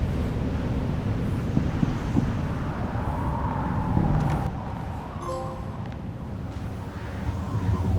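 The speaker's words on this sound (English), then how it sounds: "It's like a wind vortex." A swirling wind vortex in the video game Alone in the Dark roars as a steady, broad rushing whoosh with a low rumble, continuous for the whole stretch, with a few faint tonal chimes partway through.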